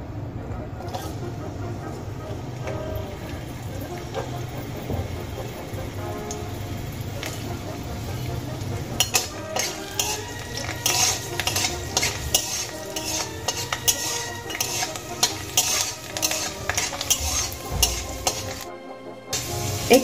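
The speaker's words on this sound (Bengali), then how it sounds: "এখানে আমি রসুনগুলো হালকা ব্রাউন করে ভেজে নিয়েছি" Peeled garlic cloves fry in hot oil with a soft, steady sizzle, while a metal utensil repeatedly taps and scrapes the pan.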